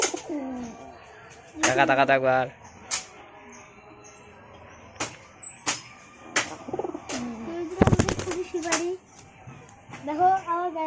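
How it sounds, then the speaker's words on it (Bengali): A hunter pigeon coos close by in short bursts, while a child and an adult talk over it and sharp knocks and clatters break in intermittently. "দেখতে পাচ্ছ কিরকম শিকারি পায়রাটা।"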